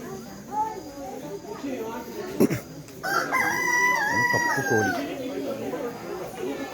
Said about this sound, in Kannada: ಕಪ್ಪು ಕೋಳಿ ಇದು ನೋಡಿ.